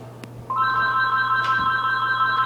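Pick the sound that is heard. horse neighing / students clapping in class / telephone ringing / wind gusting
telephone ringing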